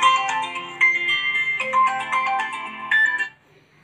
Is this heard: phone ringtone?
yes